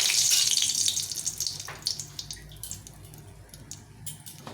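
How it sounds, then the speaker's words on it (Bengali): Dried red chillies, two of them, fry in hot oil in a heated wok, giving a loud, continuous crackling sizzle that starts strong and gradually settles into scattered pops and spits. "লঙ্কাগুলো ভেজে উঠিয়ে নেব।"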